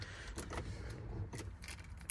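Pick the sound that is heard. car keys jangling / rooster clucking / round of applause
car keys jangling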